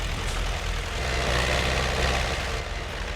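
A T40AM tractor drives along a road in Farming Simulator 17, its engine giving a steady, loud low drone that runs continuously with no pauses.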